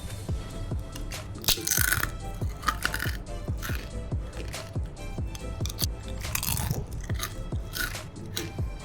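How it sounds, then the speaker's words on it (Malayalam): Crisp achappam, a fried Kerala rose cookie, being bitten and chewed close up, with a series of sharp crunches and crackles over a steady low background hum and no talking. "ഈ അച്ചപ്പം എത്ര ക്രിസ്പിയാണ് എന്നുള്ളത് ഞാൻ കാണിച്ചു തരാമേ. ഞാനിത് കഴിച്ച് കാണിക്കാം."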